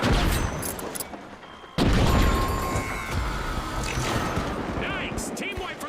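A frag grenade blast in the arena shooter The Finals, a sudden loud explosion followed by crackling gunfire and chaotic game noise, with a voice talking over it.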